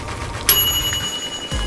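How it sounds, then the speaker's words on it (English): A toy kitchen timer from a children's play-kitchen game gives a single short, bright metallic ring that quickly fades, followed by a soft thump. "there's my timer"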